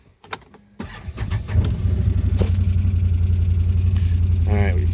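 A Can-Am Defender HD9 UTV engine cranks and catches after a few clicks, then settles into a loud steady idle rumble nearby, with a voice briefly heard.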